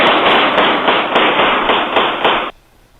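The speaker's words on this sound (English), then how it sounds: "Gunfire erupts in one Oakland neighborhood, forcing residents to take cover in their homes tonight." Gunfire in an Oakland neighborhood, carried in a news report: a loud, rapid string of sharp cracking shots fired in quick succession for about two and a half seconds, then cut off into near silence.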